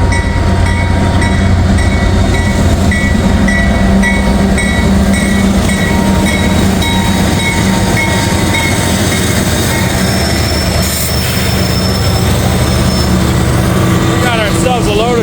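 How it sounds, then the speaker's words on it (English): A loaded CSX coal train rolls steadily through a crossing on a snowy day, a continuous loud rumble of heavy wagons with clicking wheels and faint squeals, a voice talking over it. "A loaded coal train,"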